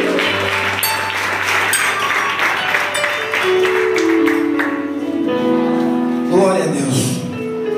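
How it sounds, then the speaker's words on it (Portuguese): Applause from a youth worship congregation in a church, a dense clapping wash at first that thins out as sustained musical tones and voices take over, ending with a louder rising voice. "Se você puder aplaudir o Senhor mais uma vez"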